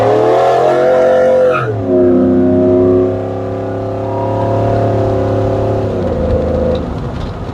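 A 2002 Chevrolet Silverado's engine revving hard up close at half throttle, its loud exhaust roar rising, dipping as it shifts, then holding a strong drone before easing off.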